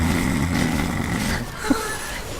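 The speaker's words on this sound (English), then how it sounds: "Oh, I know I snore." A person snores in a steady, rasping rhythm, loud and close, with a couple of sharp breathy snorts near the end.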